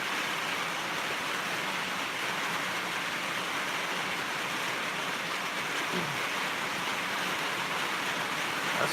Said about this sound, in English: I hate that it's pouring rain so hard and y'all having to hear it.